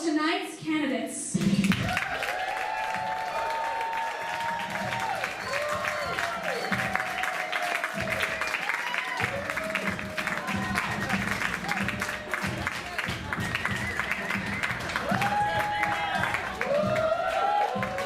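A large audience breaks into loud, sustained applause with whoops and cheers that continue throughout, welcoming the evening's candidates at a live staged event.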